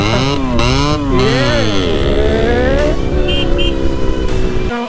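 A Yamaha RX100 two-stroke motorcycle engine revs close by, loud and buzzy with rising and falling pitch through several throttle blips, a brief horn-like tone near the end before it cuts off.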